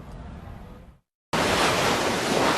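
Pacific Ocean surf roars as a steady wash of breaking waves, starting softer, cutting out briefly, then returning louder and fuller.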